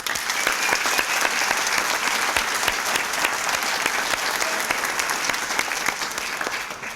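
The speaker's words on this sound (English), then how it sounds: "Let's give them a round of applause." Loud, continuous audience applause for graduating students at a school graduation ceremony, a dense even roar of many hands clapping that stays steady for the whole stretch.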